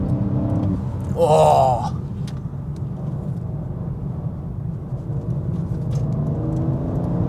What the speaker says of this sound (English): this engine, bro, this engine feels mechanical as hell